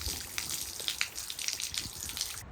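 Water gushes and splashes steadily from a garden hose while a horse is bathed outdoors, a continuous broadband spray with small splatter bursts, close and fairly loud throughout.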